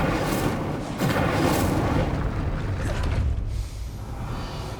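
An Incendio fire spell cast in Hogwarts Legacy bursts with a loud, roaring whoosh of flame, then sustains a dense, rumbling crackle that fades slightly toward the end, with no voices over it.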